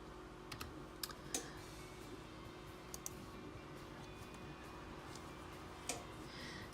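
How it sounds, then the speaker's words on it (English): Light typing on a computer keyboard, a handful of faint scattered key clicks in short bursts over quiet room tone. "I'm gonna just type in pumpkin"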